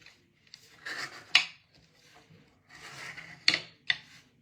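Folded cardstock is creased by hand in several scraping rubs, each ending in a sharp crisp snap, close and fairly quiet with pauses between strokes.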